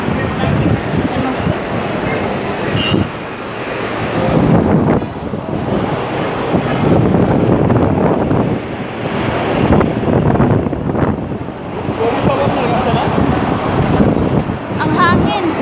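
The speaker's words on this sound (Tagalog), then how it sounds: "Ang lakas ng hangin" Strong wind roars steadily into the microphone outdoors near a busy bridge crowded with people, a constant loud buffeting rush that never lets up, with city traffic faintly underneath.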